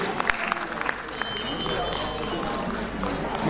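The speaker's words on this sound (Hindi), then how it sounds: "एक बार तालियों के साथ हम अभिनंदन करेंगे इस सम्मान के लिए।" An audience at a literary award ceremony applauds honorees, the steady mid-level clapping continuing throughout with voices faintly mixed in.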